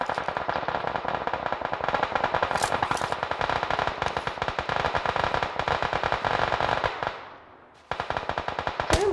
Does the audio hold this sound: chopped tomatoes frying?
no